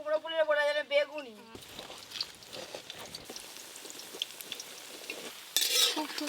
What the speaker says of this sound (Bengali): এই কুমড়ো ফুলের বড়াগুলো এক্ষুনি ভাজা হয়ে যাবে